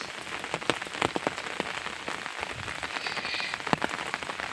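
Rain falls on a garden plantation, steady patter with distinct individual drops tapping nearby surfaces at an irregular rhythm, moderately quiet and without voices.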